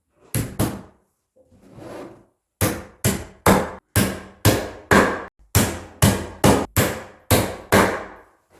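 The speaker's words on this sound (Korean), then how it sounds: "조립할 때 망치질하는 소리가 크기 때문에 아랫집에 사람이 있다면 미리 양해를 구하고 조립해야지" Nails driven into the back panel of an IKEA PAX wardrobe, a run of about fourteen loud, sharp hammer blows in a steady rhythm after a couple of early strikes and a brief pause.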